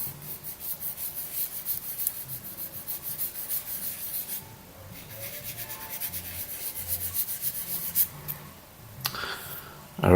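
Excess plastic is sanded off a small part from an Italeri Fiat Iveco 190 model truck kit: quiet, close rhythmic rubbing strokes run steadily, pause briefly, then resume.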